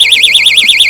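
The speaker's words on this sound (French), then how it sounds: "non seulement il déclencherait l'alarme," A door-blocking intruder alarm, the Venteo BLOC03, sounds off with a loud, steady warbling electronic tone that rises and falls rapidly and continuously, close and alone.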